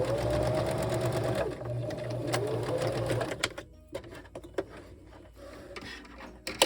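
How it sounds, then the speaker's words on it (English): A sewing machine runs a continuous stitching burst along the seam of a pad cover with contoured ends, then stops, leaving scattered fabric handling clicks and rustles. "So I'm just going to sew that section next."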